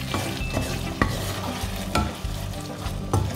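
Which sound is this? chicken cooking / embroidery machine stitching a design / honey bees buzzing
chicken cooking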